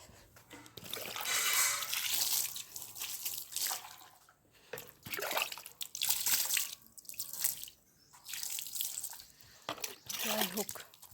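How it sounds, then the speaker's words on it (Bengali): Water splashes and drips in uneven bursts while a gas cylinder is washed, with sloshing pulses separated by short quiet gaps, close and fairly soft. "এবার এই গ্যাসটা ধুয়ে দিই।"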